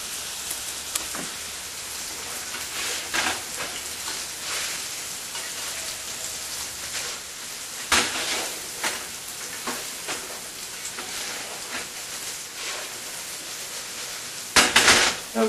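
Okra frying in a pan gives a steady crackling sizzle with sharp pops and spatters scattered throughout, growing louder in a burst near the end.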